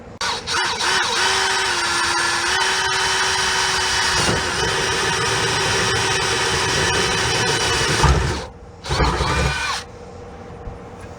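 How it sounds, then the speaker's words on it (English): Power drill boring a pilot hole for an aftermarket transmission cover on a Fox Body car, a loud steady whine held for about eight seconds, a short pause, then a brief second burst. "let me go ahead and get me a pilot hole drilled right here"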